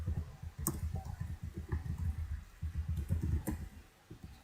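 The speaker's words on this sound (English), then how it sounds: "so let's just type it down here" Steady, rapid typing on a computer keyboard, with many soft clicks in close succession, a brief pause, then more keystrokes, close and moderately quiet with no voices.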